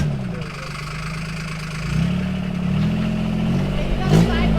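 A diesel golf cart engine runs steadily with a low, throbbing, slightly knocking idle that rises a little as it pulls away, close and continuous, with people talking over it.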